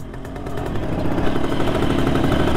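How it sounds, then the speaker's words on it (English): A 1973 Kawasaki S2A 350 triple motorcycle engine runs steadily nearby on an estate, a dense, even drone that swells slightly as it continues, with no talking. "1973 Kawasaki SA2 350 triple."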